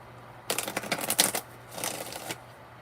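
Quick tapping on a phone's touchscreen keyboard comes in two close bursts of rapid clicks, with a soft steady hum underneath.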